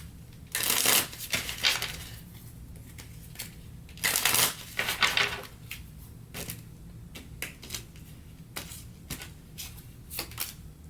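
Tarot cards are riffled and shuffled in several quick, crisp bursts, followed by lighter flicks and taps as individual cards are pulled and laid down, close and quiet.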